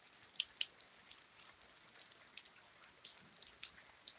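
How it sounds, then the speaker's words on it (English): Rain during a thunderstorm in Leilani Estates, faint irregular drips and patters landing close by in a quiet setting, with no thunder evident. "it's raining where I'm at right here in Leilani Estates"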